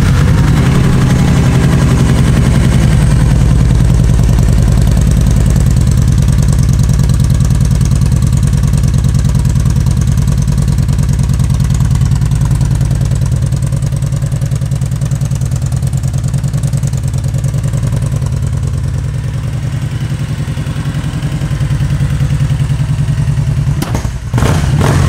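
A 2013 Kawasaki Vulcan Vaquero motorcycle idles loud and close with a steady, deep rumbling engine note that holds throughout, with a brief clatter near the end.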